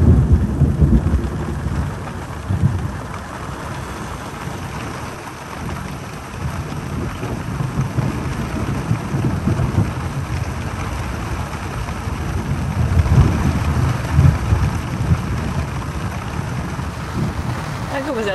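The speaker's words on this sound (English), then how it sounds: "The electrical storm rolled over us at about 1 a.m. and it was the most intense electrical storm I've ever witnessed." An intense electrical thunderstorm rolls overhead at night in Zagori, Greece, with steady heavy rain and rumbling thunder swelling and fading as a loud, continuous wash throughout.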